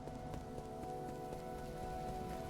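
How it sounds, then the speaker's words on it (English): Steady rain falls in the video game Nine Sols, a continuous soft patter and hiss that stays even and moderately close throughout with no talk. "The rain really helped with the setting too."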